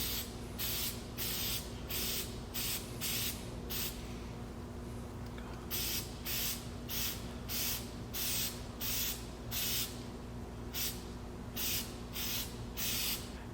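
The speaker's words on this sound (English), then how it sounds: "all you're really doing is just applying even coats" Repeated bursts of K&N air filter oil sprayed from an aerosol can onto a reusable intake air filter, roughly a dozen short hissing sprays in a steady rhythm with a pause midway, close and fairly loud over a low background hum.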